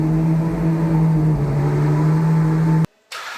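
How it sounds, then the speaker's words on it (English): 2023 Ferrari 812 GTS with a V12 engine running after a cold start: a steady, strong low hum with a clear engine drone, close and continuous, then cutting off abruptly near the end with brief silence. "I'm gonna start it just to hear the cold start of this car"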